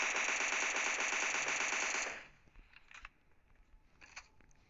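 Rapid automatic gunfire rattles in the mobile battle royale game PUBG Mobile, a dense burst of shots lasting about two seconds before cutting off, followed by a few faint clicks and thuds.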